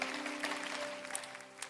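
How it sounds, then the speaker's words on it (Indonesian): A youth church congregation claps, a short burst of crowd applause under steady tonal music, with distinct individual claps standing out briefly. "berikan tepuk tangan untuk Tuhan."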